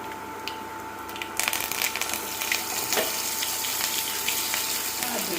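Spices hit hot oil for a tempering in a village home kitchen: after a quiet start, a sudden loud sizzle bursts out, then keeps crackling and spitting steadily close by.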